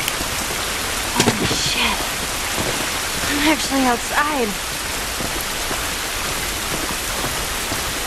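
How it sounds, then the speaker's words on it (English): Heavy, steady rain hisses throughout an outdoor scene in the video game The Last of Us Part 2, with brief character voices and a few other sounds breaking through the downpour. "This rain ain't gonna do us any good."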